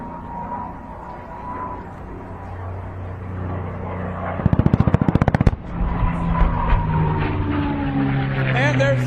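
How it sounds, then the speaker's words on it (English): Ground pyrotechnics and an aircraft strafing run at the Wasatch Air and Space Show in Utah: a loud, rapid burst of about a dozen sharp blasts over steady engine drone, with a commentator talking before and after. "We'll have pyro on the ground from Firewalkers Pyro International, and a strafe from Mark Peterson"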